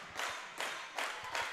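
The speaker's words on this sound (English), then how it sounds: "That slow clap." A volleyball crowd's slow clap at game point for the O'Neill Lady Eagles sounds as four evenly spaced, fairly faint claps in a steady, deliberate rhythm inside a gym.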